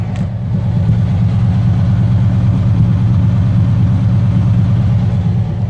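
A 1954 Ford Crestline V8 engine idles steadily with a deep, smooth, low rumble, close and constant throughout, with no voices.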